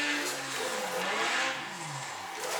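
Simulated car engine in Assetto Corsa revving hard through a drift, a steady loud drone with rising and falling pitch and a faint hint of tire noise, with no voices.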